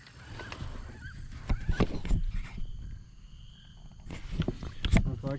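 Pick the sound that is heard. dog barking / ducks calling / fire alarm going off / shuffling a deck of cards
ducks calling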